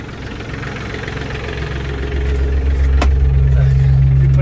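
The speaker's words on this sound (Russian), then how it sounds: "Фреза поднимается и опускается" An ISEKI TK29FF tractor idles close by while its rotary tiller is raised and lowered. The engine drone swells and deepens about halfway through as the load shifts.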